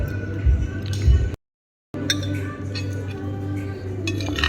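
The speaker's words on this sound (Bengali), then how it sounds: "চামচ দিয়ে খাচ্ছি।" A spoon clinking against a plate while eating rice with fried potatoes, dal, salad and chicken: light, close, irregular metallic taps and scrapes, with a brief break of silence midway.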